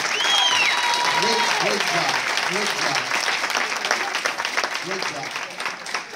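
An audience at an evening gala applauds for several seconds, a dense wash of clapping with cheering voices rising in the first seconds before the clapping thins slightly.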